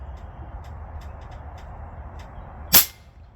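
A single sharp crack from a Macavity Arms MA2 .30 air rifle shot at 100 yards, loud and abrupt against a quiet outdoor background with faint ticking.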